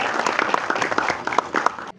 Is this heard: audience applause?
yes